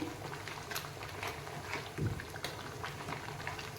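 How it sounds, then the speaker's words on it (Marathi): A pot of thick crab curry bubbling steadily, with soft popping and gurgling, close by and continuous. "आपल्या कालवणाला छान प्रकारे उकळ आलेला आहे"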